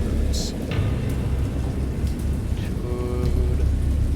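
Stormy weather in the video game Dagon: a steady wash of rain and low rumbling thunder fills the scene, with a few faint tonal chirps and distant sounds drifting over the dense, continuous roar.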